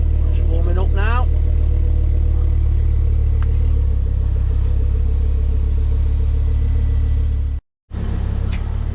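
A Ford Focus ST engine with a block mod idles while warming up, a steady low constant rumble, close by, with a brief clattery rev early on and a short dropout near the end.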